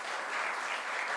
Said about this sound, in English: let's give another round of applause to our superintendent